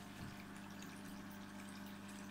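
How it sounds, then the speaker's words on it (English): Steady low hum and trickling water from an air pump moving nitrate-laden water between two adjacent aquariums, one holding plants and expanded clay pellets; constant, close and alone throughout. "is pumped by the air pump into this tank here"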